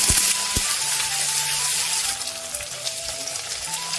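Ginger-garlic paste frying in hot oil with garam masala, dried chillies and bay leaves, a steady close sizzle and crackle with faint clinks, and no talking.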